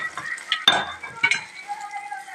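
Dry red chillies, curry leaves and tempering spices sizzle in hot oil in a pan, a steady crackling hiss broken by the clink and scrape of a spoon stirring against the metal.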